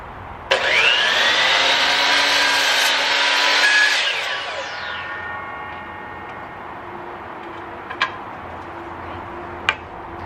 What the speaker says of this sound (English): I'm using my new DeWalt miter saw to cut the trim around the chalkboard.